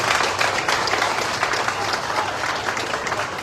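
Gathered audience giving a hearty round of applause, dense steady clapping throughout, close and fairly loud, with no talking over it.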